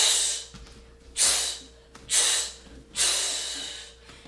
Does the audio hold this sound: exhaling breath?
yes